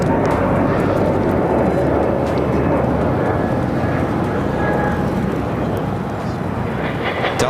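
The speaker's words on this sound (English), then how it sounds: "Delta 767 coming in from JFK." A Delta Boeing 767 airliner arriving at LAX, a loud continuous jet roar with deep rumble that holds steady and eases slightly as it passes close by.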